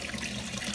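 Water falling steadily into a fish tank in a deep water culture garden setup, a continuous close splashing trickle with no pauses and no voices.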